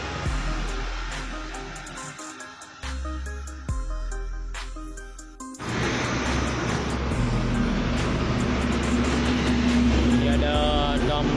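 Heavy truck rolling past on the Banda Aceh–Medan highway at Pidie, heard from aboard an intercity bus: a steady engine rumble and road roar that swells sharply midway and stays loud and close to the end.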